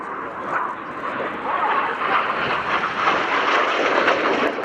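Red Arrows display jet over RIAT Fairford, a steady broad roar of engine noise sustained throughout at moderate distance, with faint voices mixed in underneath.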